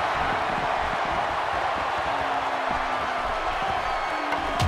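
Wrestling arena crowd at a WWA Smackdown event, a sustained loud roar of cheering and whooping with scattered shouts throughout, steady and dense from start to finish.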